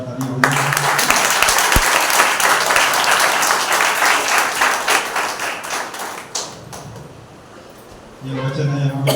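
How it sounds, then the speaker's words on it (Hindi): A church congregation claps loudly and steadily for several seconds at a Sunday service, then the applause thins and fades, and a voice speaks over the end. "उनके लिए एक बार जोरदार तालियां हो जाएं।"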